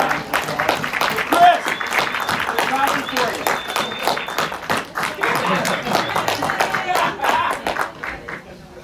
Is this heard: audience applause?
yes